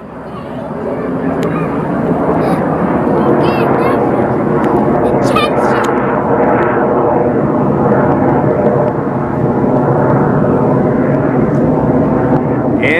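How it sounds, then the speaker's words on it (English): An airplane flies over near Seattle airport, a loud sustained engine roar that swells and holds steady, with people talking faintly underneath. "That's a cool airplane there."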